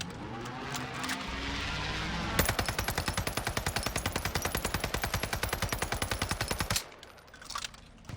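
An assault rifle in Call of Duty fires one long sustained automatic burst of rapid, evenly spaced shots lasting several seconds, loud and close, with quieter game ambience before and after.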